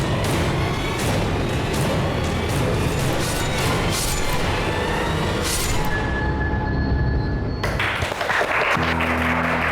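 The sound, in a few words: applause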